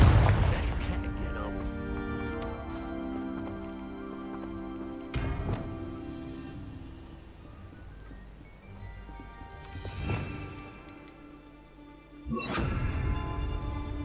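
Spell blasts in Hogwarts Legacy, a few sharp explosive bursts spaced several seconds apart with booming tails, set against a low ambient game score and faint voices.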